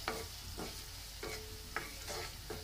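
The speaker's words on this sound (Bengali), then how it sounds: "এখন একটু নেড়ে চেড়ে নিচ্ছি" Onions with coriander, turmeric and salt frying in a pan while being stirred, rhythmic scraping strokes about every half second over a soft, steady sizzle.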